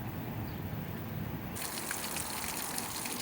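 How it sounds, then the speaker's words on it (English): Water rushes steadily from a hose while running a Honda BF10 outboard motor, a continuous hissing gush that grows brighter and louder partway through, with no talking. "As you can see, we have the water running."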